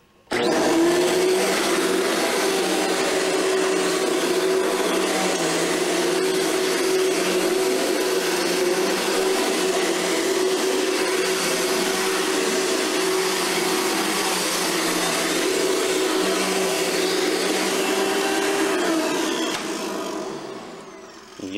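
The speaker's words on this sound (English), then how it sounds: "I'm cleaning here, so I haven't vacuumed in a long time" A household vacuum cleaner runs steadily for about twenty seconds during cleaning, a loud continuous motor drone with a sustained whine that cuts off abruptly at the end.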